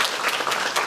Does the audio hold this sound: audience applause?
yes